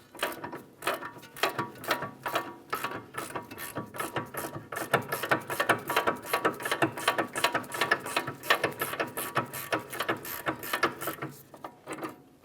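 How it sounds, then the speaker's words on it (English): A ratcheting wrench turns an 18mm nut on a sway bar link of a 2013-2020 Ford Fusion, a long run of quick, even ratchet clicks in short repeated strokes, close and clear. "I'll be using a ratcheting wrench."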